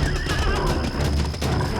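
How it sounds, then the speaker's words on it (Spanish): Horses gallop in an animated cartoon with rapid clip-clopping hooves while one neighs, loud and busy, like a cartoon sound effect. "Los 3 ladrones se subieron a sus caballos y se alejaron a galope."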